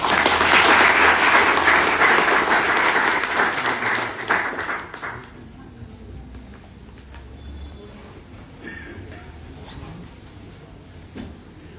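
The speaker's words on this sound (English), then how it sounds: "can we have a round of applause to welcome our amazing speakers?" A conference audience applauds loudly for several seconds to welcome speakers, then the clapping thins out and fades to scattered taps and room noise.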